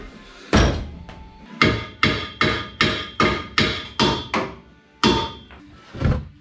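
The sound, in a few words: hammering on bent pipe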